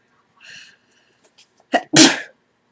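A person with days of pollen-season sneezing lets out a soft breathy intake, then two sharp sneezes, the second one loud and close, with silence around them.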